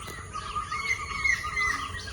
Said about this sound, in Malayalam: നല്ല രീതിയിൽ കിളി സൗണ്ട് ഉണ്ടാക്കുന്നുണ്ട്.